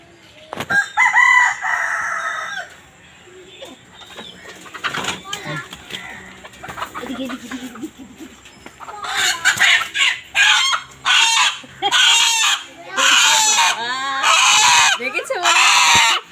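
Chickens clucking nearby, with a rooster crowing in loud repeated bursts over the second half, along with occasional rustling and a voice heard briefly.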